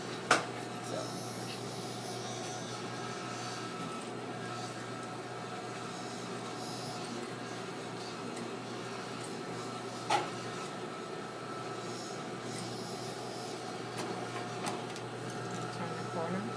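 A sewing machine top stitches a zipper, a steady quiet mechanical whir with faint ticking running throughout, broken by a couple of small clicks.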